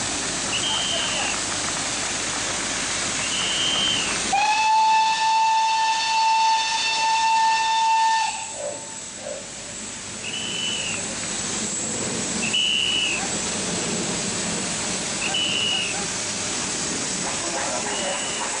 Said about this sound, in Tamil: இதில் ரயில்வே அதிகாரிகள் கலந்து கொண்டு நீராவி என்ஜினை வழியனுப்பி வைத்தனர்